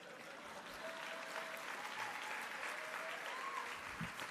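An audience at a keynote talk applauds, a dense, steady patter of clapping from many hands that carries on throughout, heard at a distance in a large room.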